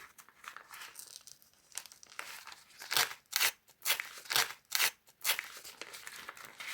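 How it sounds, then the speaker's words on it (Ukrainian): Crinkling plastic packaging, then a run of sharp tearing and crackling bursts as a plastic packet is ripped open close by. "Не хотіла рвати пакетик, але вийшло, як вийшло."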